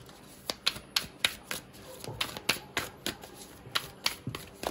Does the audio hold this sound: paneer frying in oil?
no